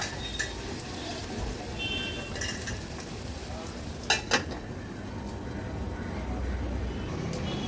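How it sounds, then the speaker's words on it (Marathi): Onion sautéing in oil in a covered pan over a low flame: a gentle steady sizzle runs throughout, with a few sharp metallic clinks of utensil or lid against the pan near the middle and end. "कांदा तेलावर थोडासा परतून घेते."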